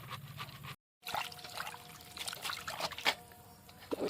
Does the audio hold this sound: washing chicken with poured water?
yes